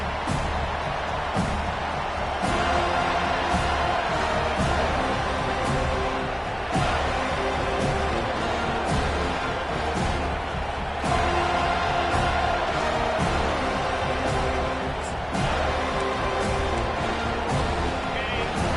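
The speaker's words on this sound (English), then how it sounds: "Listen to the crowd energy here in the early going." A large stadium crowd roars and cheers continuously at an FSU vs Florida college football game, swelling in waves after a kickoff, with a commentator talking over the din.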